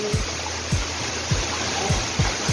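Steady broadband rush of heavy rain in a park, with water flowing and overflowing, and periodic low thuds and splashes recurring about every half second.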